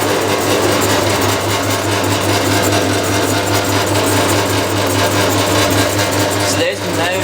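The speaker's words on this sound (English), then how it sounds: "So there's the motor." The motor of a 1989 Maytag A512 Fabric-Matic washer runs close by with a steady, loud mechanical hum and rapid rattle, with a brief knock near the end.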